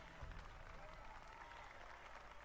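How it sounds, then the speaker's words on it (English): Crowd cheering and applauding in the submarine video game Silent Hunter 3, faint and steady with a quiet voice mixed in. "Everyone is cheering, everyone is happy"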